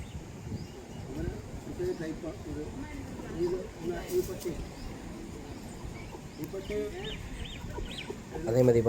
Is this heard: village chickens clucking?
yes